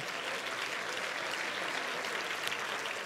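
A church congregation gives a steady wash of applause during a sermon, many hands clapping evenly at moderate distance with no talk over it.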